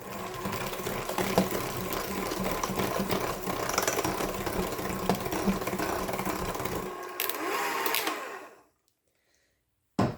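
An electric mixer quickly beats cookie dough with an egg for funfetti cookies, a steady whirring motor drone close by for about eight seconds before it cuts off into silence.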